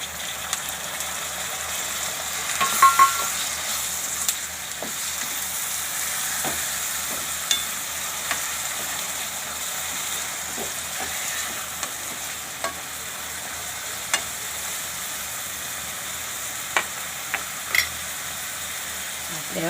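Onions and tomatoes fry in a pan for a Kathiyawadi vaghareli khichdi, giving a steady soft sizzle with scattered clicks and scrapes of stirring throughout.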